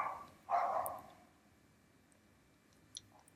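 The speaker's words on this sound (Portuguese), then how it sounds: "Tem um cão latindo." A single dog barks once, a short burst heard at a distance in an otherwise quiet room, followed by a few faint clicks.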